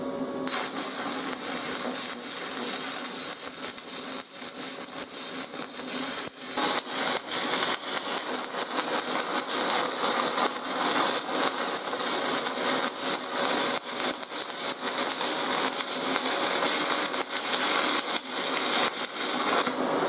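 A MIG welder turned up to 180 amps runs with a harsh, continuous crackling hiss close by, which grows louder and denser partway through and keeps going without pause.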